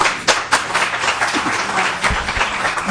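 A crowd of people claps together in a state House commerce and consumer protection committee hearing room, a dense, steady patter of many hands with a few sharper claps standing out, sustained throughout without talk.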